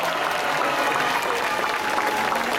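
An audience at the Tour de Guadeloupe 2011 cycling opening ceremony applauds steadily, a dense, loud, continuous clatter of many hands.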